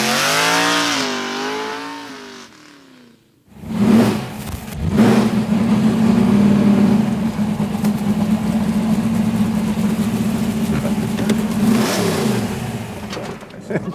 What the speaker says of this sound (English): That's a heck of a sound, isn't it? Only the Hemi does it.